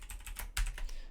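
A string of quick, light keystrokes on a computer keyboard while code is entered, close and fairly quiet, with one slightly heavier press near the middle.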